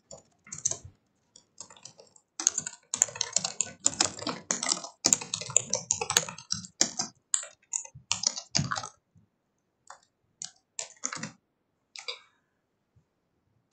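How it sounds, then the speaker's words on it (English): Names being typed on a computer keyboard: bursts of quick, close key clicks, busiest early and thinning into sparse separate taps with gaps toward the end, no voices. "So I'm going to type all of their names, including my own"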